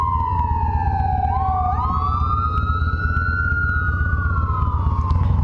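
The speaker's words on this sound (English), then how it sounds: "There goes another ambulance." An ambulance siren wails loudly nearby, its pitch sweeping down and up as it passes, over steady traffic rumble, with no talking.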